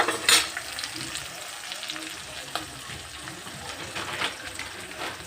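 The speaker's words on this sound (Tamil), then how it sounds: "வெங்காயம் நல்லா வதங்கிடுச்சு" Onions sautéing in a pan while making tomato chutney, a steady crackling sizzle with a few sharp stirring scrapes and clinks, close up and without talk.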